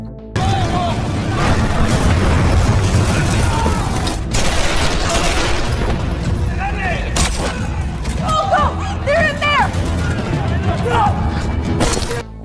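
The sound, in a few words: gunfire and explosions in an action film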